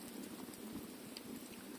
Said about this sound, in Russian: Потихоньку моросит.